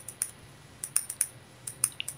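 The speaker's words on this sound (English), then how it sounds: "We're gonna hear this clicking all night long." A computer keyboard clicks in quick, uneven bursts of taps, close and fairly quiet, with short pauses between clusters and no voices over it.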